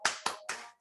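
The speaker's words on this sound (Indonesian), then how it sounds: "Tepuk semangat." Three sharp hand claps in a steady rhythm, close and fairly loud, from a class's spirit clap led by a teacher, followed by a brief high tone at the end.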